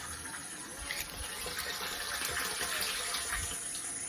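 Water runs into a garden water tank that feeds drip irrigation in a Konkan fruit orchard with cashew, jackfruit and mango trees, a steady, moderately faint rushing and gushing that continues throughout.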